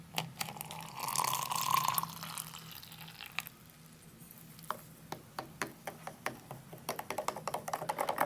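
Water trickles and splashes into banana-flavored powder from a South African military 24-hour ration pack, a soft pouring stream that gives way to a run of faint drips and small taps.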